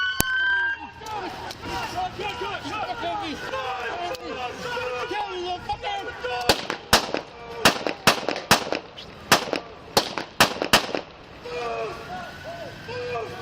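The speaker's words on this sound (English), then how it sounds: "Shots fired. Shots fired at Hyatt Place." Gunshots ring out during a police encounter at a Hyatt Place hotel: a rapid run of about eight sharp, loud bangs follows a stretch of raised voices and commotion.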